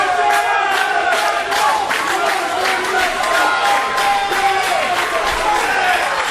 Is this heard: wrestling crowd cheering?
yes